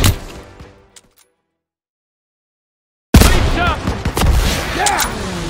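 Gunfire in Call of Duty: World at War, loud bursts of shots that fade into a two-second silence, then a dense barrage of rapid fire and explosions resumes abruptly with chaotic battle noise.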